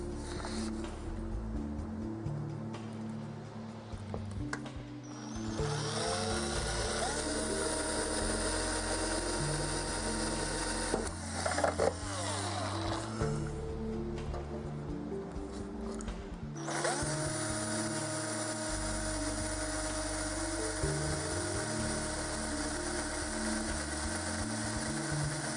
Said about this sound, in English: Next, it's on with the drill.